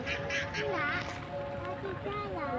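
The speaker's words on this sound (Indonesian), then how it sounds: "Ada bebek-bebek ya Dik." Ducks quack repeatedly along a river channel being widened behind houses, several nasal calls rising over steady outdoor noise, with people talking nearby.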